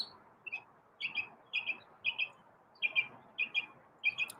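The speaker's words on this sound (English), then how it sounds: "a whole flock of the cedar waxwings has flown into the neighbor's tree again" A flock of cedar waxwings calling from a neighbor's tree, thin high trilling notes repeated in short clusters roughly every half second, soft and a little distant over faint background hum.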